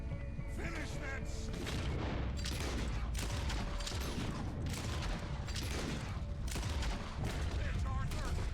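Gunfire in the video game Red Dead Redemption 2, repeated loud shots and bursts in an irregular fusillade with booming hits, over a noisy battle scene with voices talking.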